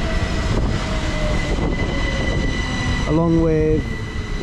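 A Class 377 passenger train passes through a station on the West Coastway line, a loud steady rumble with a rising tonal whine near the end, while someone talks over it.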